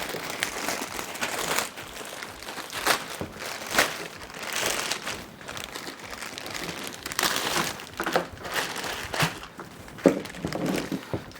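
Packaging for a set of animated aftermarket headlights for a 2006-2013 Lexus IS is torn and rummaged open, with close crinkling plastic and paper, scraping and a few sharp rips in uneven bursts.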